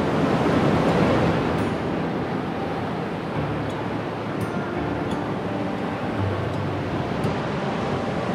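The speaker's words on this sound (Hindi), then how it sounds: "आप देख सकते हैं मेरे पीछे है वाटरफॉल और सामने है अरेबियन सी।" Arabian Sea surf at Cabo de Rama near a waterfall in Goa, a steady broad wash of waves with wind rumble on the microphone, continuous and fairly loud with no voices.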